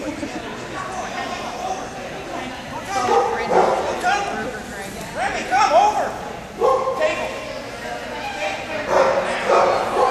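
A dog barks and yips at an agility trial in a string of sharp, excited bursts, some whimpery, spread across the run. People talk and call out over the barking.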